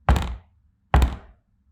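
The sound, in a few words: two thudding pounds on a door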